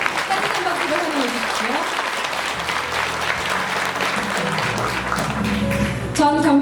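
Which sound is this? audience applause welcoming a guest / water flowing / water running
audience applause welcoming a guest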